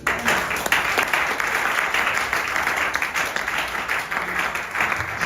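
Church congregation applauding together during a sermon, dense steady clapping that fills the room throughout, with a few voices mixed into the applause.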